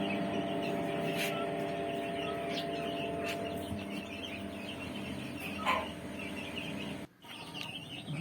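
Native country hens in a Kerala backyard cluck and chirp softly amid a low, steady background hum, with a few sharper calls standing out.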